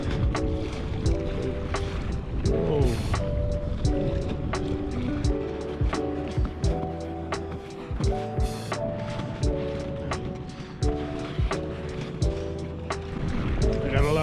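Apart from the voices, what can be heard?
lake waves hitting a Recon 120 kayak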